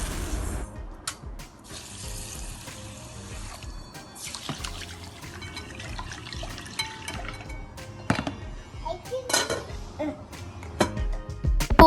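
Water runs steadily from a tap into a pot of basmati rice set to soak, a continuous close splashing and trickling with occasional clinks of the vessel, with no voices.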